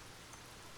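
Soft, steady rain falls with a dense, even hiss and no distinct drops standing out.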